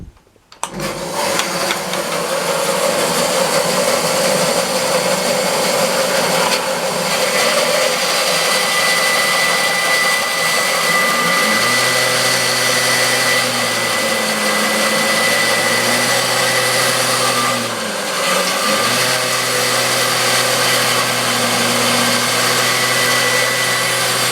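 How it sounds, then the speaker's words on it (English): A bandsaw runs steadily at close range, humming loudly as it rough-cuts an elm bow blank, shaving a corner off the edge with a sustained mechanical drone that dips in pitch briefly as the blade loads mid-cut. "a bit of one-handed bandsawing"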